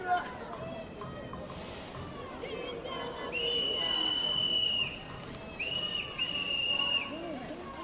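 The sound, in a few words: whistles blown in a crowd outside the Supreme Court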